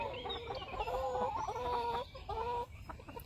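Laying hens on a small farm cluck and chatter in a steady, close chorus of rising and falling calls, with no talking over them.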